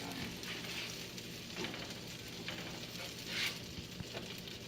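Buckwheat blueberry walnut pancakes sizzle steadily in a hot pan, a continuous hissing fry with a couple of faint scrapes and taps as they are flipped, close and even in loudness.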